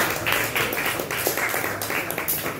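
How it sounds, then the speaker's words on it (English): Crowd applause at a crypto meetup talk in San Juan, a steady wash of clapping hands holding moderately loud across the whole moment without voices. "Give him a round of applause again"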